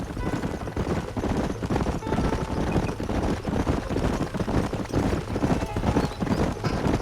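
Many horse hooves clopping in a continuous, busy rhythm in Red Dead Redemption, loud and close, with a few faint voices and distant crackling shots mixed in.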